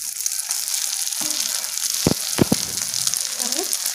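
Chicken omelette sizzling loudly in a hot pan as it is flipped over, a bright continuous hiss broken by a few sharp clanks of the spatula against the pan.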